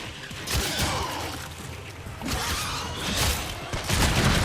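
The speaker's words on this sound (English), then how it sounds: "Destroy it with weapon fire" Weapon fire in the video game Warframe, with sustained rattling bursts of gunfire and booming impacts layered over dense action noise, loud and continuous with no talking.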